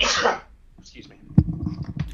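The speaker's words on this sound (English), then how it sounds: "I'm going to sneeze again." A single person's sneeze bursts out loud and close at the start, then a short spoken apology follows.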